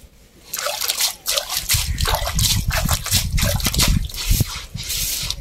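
Dishes being washed by hand at home, with water trickling, dribbling and sloshing over utensils in irregular bursts, fairly close and steady, with no talk.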